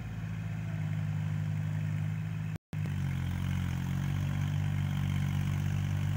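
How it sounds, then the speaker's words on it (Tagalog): A Kubota tractor engine runs steadily with a low, even idle drone, close and continuous apart from a brief dropout partway through, with no talking. "Yung makina yung ginagamit nila, kubuta."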